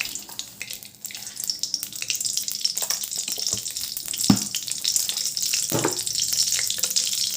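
Mustard seeds crackle and sizzle in hot oil for a Tamil-style milagu (pepper) rasam tempering, a steady frying hiss with a few sharp pops, close up and without talk.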